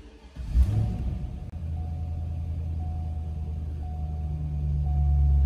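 A 2003 Corvette Z06 50th Anniversary engine cranks and catches with a sharp burst, then settles into a steady, deep idle rumble close by, building slightly louder toward the end, with no voices.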